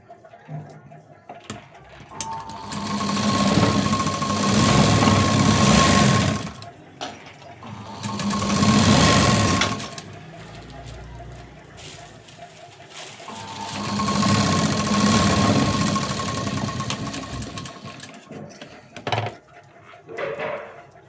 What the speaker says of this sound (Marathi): आता इथे हा ब्लाऊज उलटा केल्यानंतर इथे एक शिलाई देऊन घ्यायची.